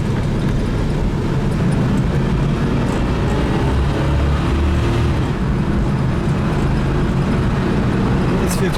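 A 1980 Pontiac Trans Am on the move gives a loud, steady engine and road roar that holds close and unbroken throughout, with no distinct gear change standing out.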